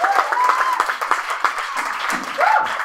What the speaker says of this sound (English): Round of applause for a volunteer